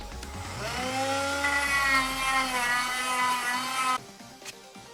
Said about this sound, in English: take a sanding wheel, put it on our rotary tool, and we're just going to kind of grind out this inner edge a little bit